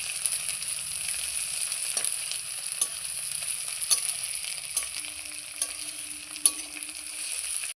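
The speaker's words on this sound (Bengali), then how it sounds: "পেঁয়াজটাকে ততক্ষণ ভেজে নেবো যতক্ষণ না এটা একটা গোল্ডেন ব্রাউন কালার চলে আসছে।" A medium chopped onion fries with spices until golden brown, giving a fairly quiet, even hiss of sizzling oil broken by periodic spatula taps and stirring clicks.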